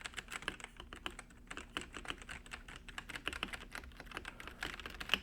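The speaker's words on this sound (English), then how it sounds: "here's the typing experience here" Typing on a Koorui MK-082 mechanical keyboard fitted with brown switches makes a quick, irregular run of close, crisp key clacks that goes on steadily and carries no talk.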